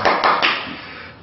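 A few sharp claps, three quick bursts of applause at close range, marking a housewarming in a Korean family drama, then fading within a second.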